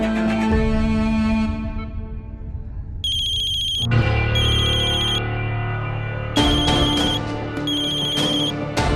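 A mobile phone ringtone plays a bright electronic melody with repeated chiming tones, loud and close, steady for several seconds without speech.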